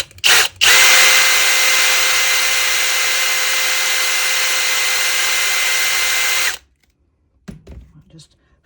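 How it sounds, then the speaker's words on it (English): A loud power drill runs steadily for about six seconds after a brief start while drilling into a resin figure, then cuts off, followed by a few faint clatters. "So I've got my drill, bit of an overkill drill, but right, so it's going to be quite loud for a minute."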